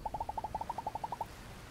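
A small bird in the video game Alba: A Wildlife Adventure gives a rapid series of about fifteen short, evenly spaced hooting notes, fairly clear against a quiet background, then stops.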